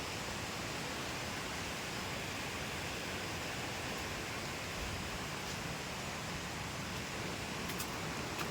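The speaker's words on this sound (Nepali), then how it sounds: "खोला." A river stream flows near a riverside camp in a hilly nature spot. The rushing water is a dense, constant roar that fills the whole stretch evenly, with no voices.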